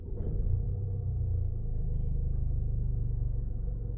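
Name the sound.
Land Rover Discovery Sport 2.0 TD4 diesel engine starting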